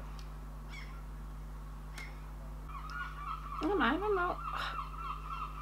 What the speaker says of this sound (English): Do you hear the seagulls?